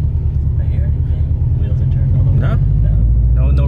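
Subaru WRX STI of the 2015-2018 generation on newly fitted Fortune Auto 510 coilovers, with a steady low engine and road rumble from inside the car while a person talks over it.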